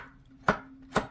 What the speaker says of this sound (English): that's the sound of beautiful cardstock